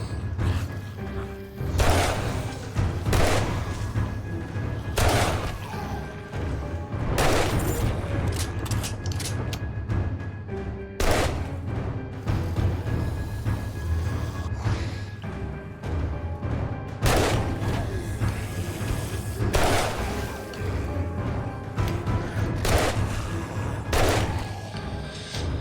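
Sustained rapid gunfire while shooting zombies in the game 7 Days to Die, heavy bursts of shots repeating loudly over a constant low rumble with no talking.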